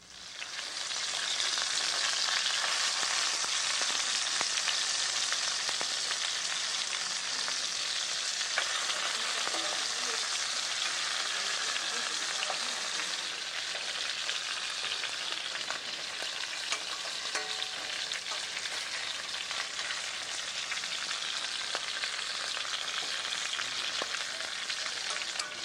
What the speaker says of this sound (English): The shanks are turned until thoroughly browned on all surfaces, including the edge.